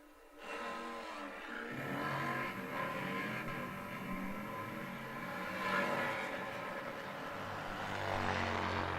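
Top Fuel nitro Harley drag motorcycles roar down the strip at the AMRA Michigan Nitro Nationals eliminations, a loud, sustained engine blast heard from a distance that swells and holds for several seconds.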